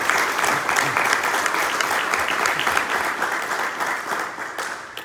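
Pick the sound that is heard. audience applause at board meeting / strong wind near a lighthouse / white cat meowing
audience applause at board meeting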